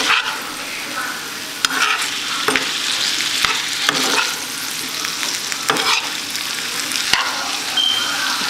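Potatoes and green beans fry in olive oil over high heat, a loud, close, continuous sizzle broken by repeated stirring scrapes and clacks, with no talking.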